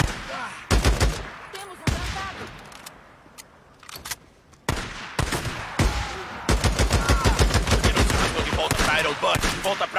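Gunfire in a zombie apocalypse video game: scattered loud single shots give way to a sustained rapid burst of automatic fire, with voices talking in between.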